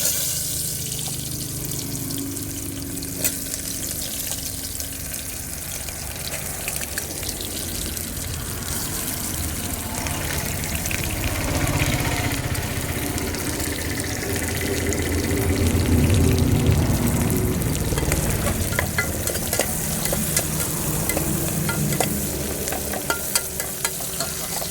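Onions sizzle with whole spices in a pan for chicken biryani cooked in a truck cab, a steady crackling hiss with occasional stirring scrapes and clinks.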